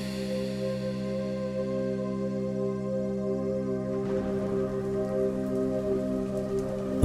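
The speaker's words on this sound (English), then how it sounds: "Torrential rain was pounding on my windshield" Torrential rain pounds down steadily as a continuous hiss over a low hum, without a break for several seconds, with no voices.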